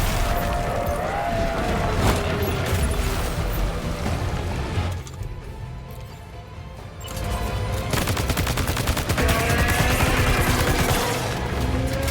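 Sustained gunfire in the video game Death Stranding 2, loud continuous bursts with a short lull in the middle before the shooting resumes at full intensity, no speech over it.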